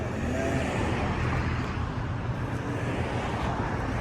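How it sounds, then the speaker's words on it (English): Steady street traffic passes close by, a continuous broadband roar of cars with a wind-like rush that holds level through the whole stretch, with no voices heard. "I can't hear you with the cars."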